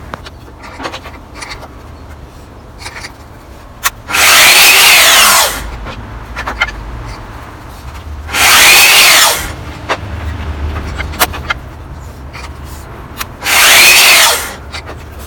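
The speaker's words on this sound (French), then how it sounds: "Donc là on va faire des coupes d'onglet, on va à 45 degrés" A Ryobi RTMS1800 combination table and miter saw cuts wood at 45 degrees. Three loud whining cuts of about a second each are spaced apart, with quieter handling clatter between them.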